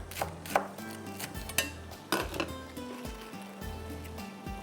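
A knife chops chicken nuggets finely on a board, giving a quick irregular run of sharp taps and thuds over steady background music, with no voice.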